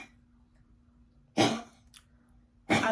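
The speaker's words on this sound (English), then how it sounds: "my dog is going to be probably coughing a lot in the background" A dog coughs twice in the background of a quiet room, two short harsh bursts about a second apart over a faint steady hum.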